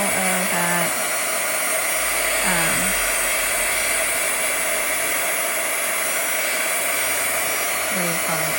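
A craft heat tool blasts hot air over a watercolor background made with acrylic blocks, a loud, constant close-up roar, with a few faint squeaky clicks underneath.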